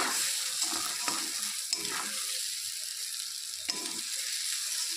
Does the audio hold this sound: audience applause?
no